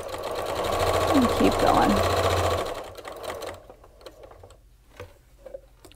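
A sewing machine stitches fabric coasters with a steady, close mechanical hum that stops partway through, leaving soft clicks while a person talks over it.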